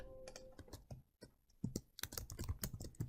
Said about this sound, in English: what we'll do here is we're going to type in the function